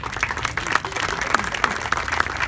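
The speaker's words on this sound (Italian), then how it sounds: "parto dal maestro Arciuli, che tutti voi conoscete e che dobbiamo applaudire." Audience applause at an outdoor terrace event, a small crowd clapping steadily and moderately loud for a couple of seconds, with scattered individual claps standing out.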